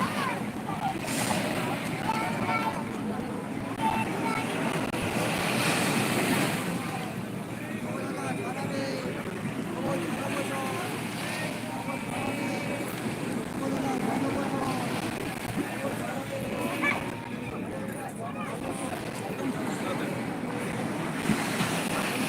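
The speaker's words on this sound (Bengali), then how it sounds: "রাতের বেলা সমুদ্র ধারে বসে থাকতে সবার ভালো লাগে" Sea waves roll onto Digha beach at night as a steady, broad rush of surf, with wind buffeting the microphone throughout.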